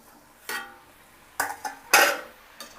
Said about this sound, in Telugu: ఇప్పుడు ఒకసారి మూత తీసి చూద్దాం